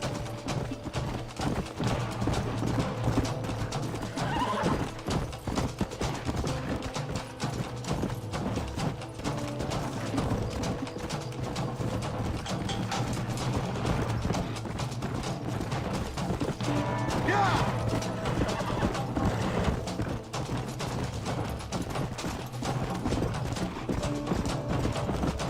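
Hooves clip-clop in a steady run from a horse in the Red Dead Redemption game, with occasional whinnies and mechanical clatter over a constant low background, mostly without talk.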